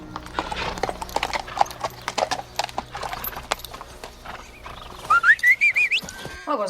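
Clear, close clip-clop of horse hooves in a steady walking rhythm, followed by a rising whistled tune near the end.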